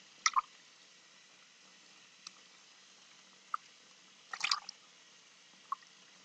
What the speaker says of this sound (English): I squeeze it out and wash it a couple of times just to be sure I really get the soap out